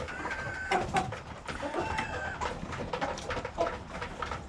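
A flock of chickens, including a rooster, cluck and chatter during feeding, with overlapping calls close by and birdsong mixed in, no talking.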